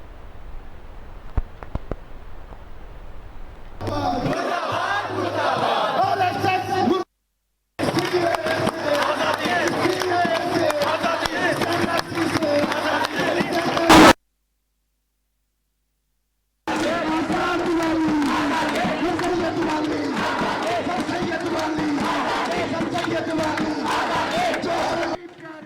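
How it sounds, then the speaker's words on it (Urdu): Protesting students chant slogans against the central government at a demonstration over the JNU attack, a loud crowd roaring in bursts separated by abrupt silent cuts. "احتجاجی طلبہ مرکزی حکومت کے خلاف نعرے لگا رہے تھے۔"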